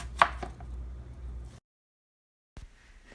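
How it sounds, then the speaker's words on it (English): A knife cutting a cucumber in half on a board, heard as a sharp close chop followed by a lighter tap, then a pause of near silence and another crisp cut. "Cut my cucumber in half. And cut it in half again."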